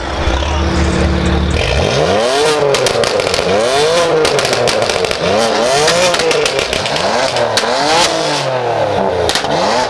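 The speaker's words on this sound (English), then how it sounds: "Why don't we have a rev off again?" Lowered BMW M4 engine revving hard and loud in repeated sharp blips, rising and falling over and over with a crackling exhaust, after a steady idle at the start.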